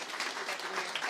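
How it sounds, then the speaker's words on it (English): A crowd claps for a council president at a contract winners announcement, a dense, steady patter of many hands close by, with a voice briefly over it. "let's give Council President Mary Sheffield a round of applause"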